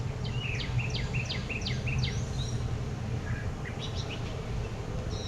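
Birds chirp in quick repeated bursts of high notes, a rhythmic series followed by a few scattered calls, faint over steady background hum.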